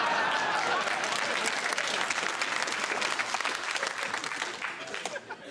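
A television studio crew and audience break into brisk applause during an IT Crowd outtake, loud and dense at first, then thinning and fading toward the end, with voices mixed in.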